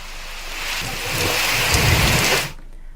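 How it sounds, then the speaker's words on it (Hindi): Heavy rain pours steadily while thunder rumbles low and swells in the middle, then the downpour cuts off abruptly near the end, with no talk. "झांसी में बीते कई दिनों से लगातार बारिश भी हो रही है"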